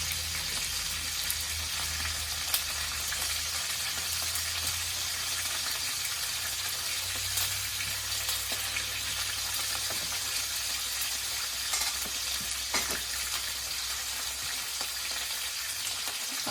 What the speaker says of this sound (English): I'm going to add in my garlic so it can infuse with the oil.